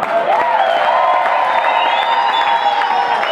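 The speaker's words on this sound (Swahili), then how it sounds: "Kama atupigi tupige Yesu makofi." A church congregation claps hands for Jesus, a dense, steady wash of applause with cheering and whoops mixed in, loud and continuous throughout.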